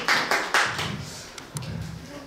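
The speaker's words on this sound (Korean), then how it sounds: "이제 큰 박수로 한번 환영해 주시겠습니다." An audience clapping in welcome at a seminar, a few loud bursts of applause early on that quickly thin out, with voices murmuring underneath.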